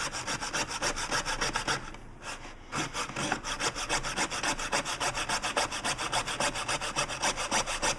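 A small saw cuts into an LED bulb, a Hyperikon PAR38 lamp, with steady back-and-forth strokes of rasping, rubbing noise, close and loud, pausing briefly near the two-second mark before the rhythmic strokes resume.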